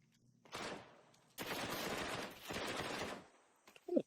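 Rapid bursts of MP9 submachine gun fire in Counter-Strike 2, two long loud sprays close together after a shorter opening burst, with a sharp click at the end.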